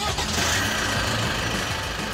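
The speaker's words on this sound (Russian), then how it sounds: "Характерный звук дизеля, но при этом удивляет то, что вибраций практически нету." The diesel engine of a Great Wall Hover H5 with an automatic gearbox runs at idle just after starting. It gives a low, steady, fairly faint clatter with no other sounds.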